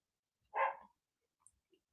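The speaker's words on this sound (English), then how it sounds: "could you let me know in the comments if you can hear the dogs losing their minds outside" A dog gives one loud, close bark outdoors, followed by a couple of faint, distant yips in an otherwise quiet moment.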